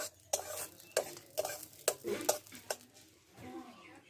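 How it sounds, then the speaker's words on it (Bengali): Dried red chillies and whole cumin seeds fry in ghee with repeated scraping stirs and a soft sizzle, close up, while someone speaks intermittently over the cooking. "দিয়ে জিরে লঙ্কাটা ভালো করে আমি ভেজে নেব"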